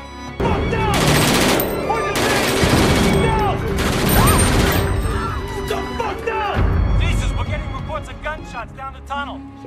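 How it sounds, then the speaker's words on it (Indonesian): Gunfire in a crowded train carriage during a hijacking scene: a loud burst of shots fired into the ceiling, then dense crashing and clatter, with frightened voices and commotion underneath. "Emery pun melepaskan tembakan ke langit-langit gerbong"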